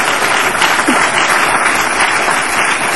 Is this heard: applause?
yes